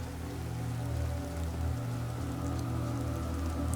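Steady rain falls continuously, a dense hiss of drops on surfaces with a low rumbling undertone, even and unbroken, no voices.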